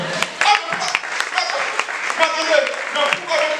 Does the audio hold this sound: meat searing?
no